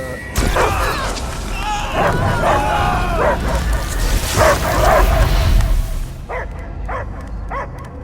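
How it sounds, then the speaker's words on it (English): Dog barks and yips sound repeatedly over a dense, continuous soundtrack in the game Marvel's Guardians of the Galaxy, with a few isolated barks standing out near the end. "I hear only barking."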